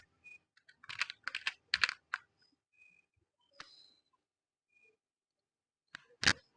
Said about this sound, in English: I am currently typing alt F4.